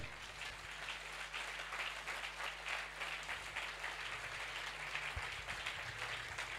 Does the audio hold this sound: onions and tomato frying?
no